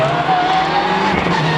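A Mitsubishi Lancer Evolution 6 rally car slides on ice under trees at a 2001 Luxembourg rally stage, its engine droning loud and steady with a rising whine and scrabbling tyre noise throughout.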